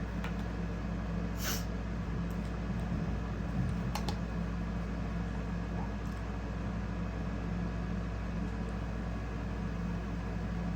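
A steady electric nail drill motor hum with a faint high whine runs throughout, a few small clicks scattered over it, close and continuous.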